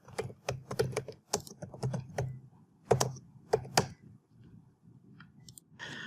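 Quick, uneven clicks of keys being typed on a computer keyboard, close and fairly quiet, in short bursts with pauses between.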